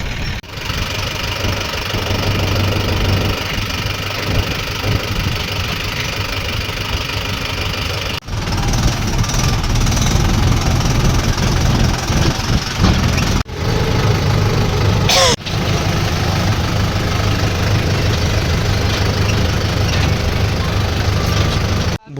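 Several tractor engines run and rev close by during loading work, a loud knocking diesel idle with surges in pitch and abrupt cuts between passages.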